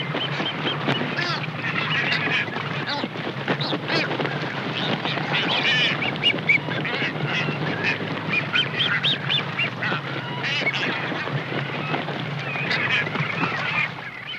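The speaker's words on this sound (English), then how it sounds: "Soon dozens of boobies, pelicans, frigates, and gulls are all partaking of the feast." Boobies, pelicans, frigatebirds and gulls feed together in a frenzy at Isabella, with a dense, unbroken chorus of squawks and honking calls that carries on steadily throughout.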